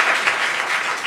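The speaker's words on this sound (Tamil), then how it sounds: "பலத்தை கைத்தட்டல் கொடுக்கணும் அணித்தலைவர்." Audience applause breaks out at a Tamil Independence Day church talk, a brief dense burst of many hands clapping together, loud and steady.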